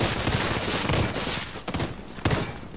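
Submachine gun fire in The Division 2 cracks out in short, loud bursts over constant game ambience.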